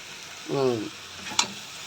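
Meat frying and being stirred for biryani makes a soft, steady sizzle, with a short tonal squeak near the start and a single clink of a utensil.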